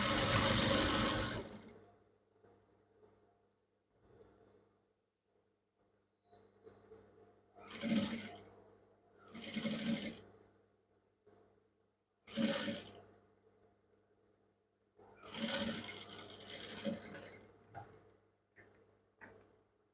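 A sewing machine stitches trouser fabric in several separate bursts of running, each lasting a second or two, with quiet pauses between them and faint mechanical ticking while the machine sits idle.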